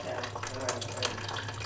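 Water runs steadily from a toilet supply line into a cut-open antifreeze container beneath a leaking toilet and sink, a soft continuous trickle and splash heard close.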